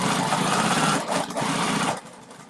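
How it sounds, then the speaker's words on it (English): Sewing machine top stitching straight across the edge of a fabric Triskelle wallet, a steady close whirring run that stops briefly near the middle and cuts out just before the end. "we just top stitch straight across"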